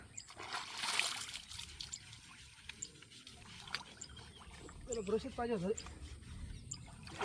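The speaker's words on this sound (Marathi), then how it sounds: "पाणी मार एकदा" Water trickles and splashes faintly as animals are washed at a village pond, with people talking over the soft outdoor water sounds throughout.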